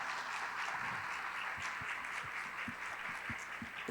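Audience applause after a talk on private social investment in equity, a steady broadband wash of clapping with a few sharper individual claps, sustained at an even level throughout.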